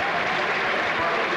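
A huge racecourse crowd applauds and cheers a winning colt at the 1996 AJC Derby, a dense continuous roar of clapping from stands and lawn, loud throughout.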